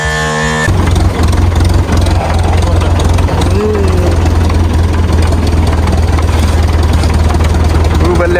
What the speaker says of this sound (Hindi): ट्रैक्टर स्टार्ट करने लगे हैं, बड़ा बड़ा चंगा ट्रैक्टर है ना।